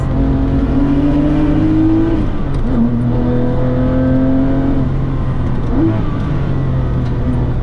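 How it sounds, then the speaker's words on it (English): A Porsche GT3 on worn-out tires slides and revs, its engine note rising and falling in long sustained pulls, loud and close with steady road roar beneath. "Car is like sliding on all four wheels."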